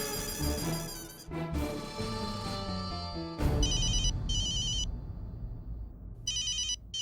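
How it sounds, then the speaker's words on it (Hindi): A telephone rings in repeated, evenly spaced electronic bursts, loud and clear, taking over after a stretch of music in a sitcom scene. "ये किसका फोन है?"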